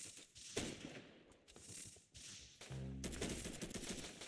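Bursts of video game gunfire, loud rapid volleys broken by short gaps, ending in a steady stretch of firing and in-game noise.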